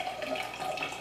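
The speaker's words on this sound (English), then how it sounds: "now I'm going to pour it into another container" Morel mushroom stock pours into another container, a brief, steady liquid trickle and splash heard close up without any talk.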